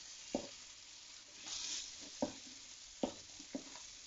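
Chorizo with paprika frying in a pan gives a steady low sizzle, broken by a few sharp scrapes and knocks of a utensil turning it, roughly evenly spaced.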